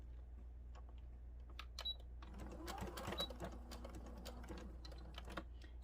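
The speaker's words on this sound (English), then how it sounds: "you're going to back stitch at the beginning and the end" A home sewing machine stitches a fleece bumblebee toy, its needle chattering in quick irregular bursts that start after a quiet moment and run on at close range, fairly soft overall.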